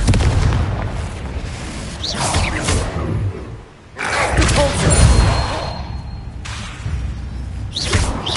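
A Confringo blasting spell explodes in the Hogwarts Legacy video game, a heavy booming blast with rumbling low end that fades, then a second loud burst around the midpoint, with game ambience throughout.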